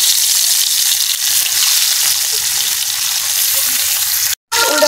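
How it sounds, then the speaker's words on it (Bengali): Taki fish coated in turmeric and salt sizzles loudly in a pan of hot oil. The frying is dense and continuous, close up, and breaks off for a split second near the end. "এখন লাটি মাছটি তেলের মধ্যে ভাজবো"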